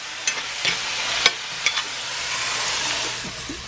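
Spoon stirring shredded cucumber into a bowl for raita, a few soft scraping clicks and wet mixing sounds over a steady background hiss, fairly close.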